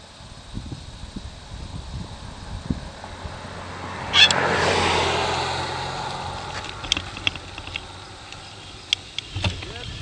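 A single car passing on a road beside a cyclist, swelling from about four seconds and fading away gradually, with wind and faint rustling around it.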